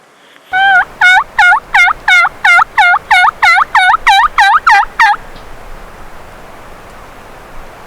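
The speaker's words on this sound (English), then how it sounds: "that gobbler gobbled" A wild turkey gobbler in spring woods lets out a rapid run of about a dozen loud, close gobbles in a steady rhythm, then falls silent over faint outdoor hiss.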